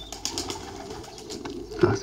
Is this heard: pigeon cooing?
yes